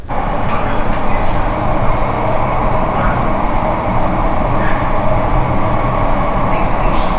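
Loud, steady rumble of an underground metro train running in Mumbai, with a continuous roar of wheels and motor and faint rattles throughout.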